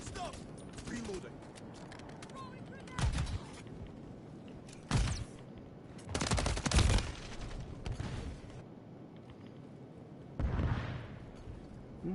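Gunfire in the shooter game Modern Warfare 3 comes as several loud, sharp bursts and scattered shots, with some heavier blasts, spaced irregularly between quieter stretches of background battle noise and people talking.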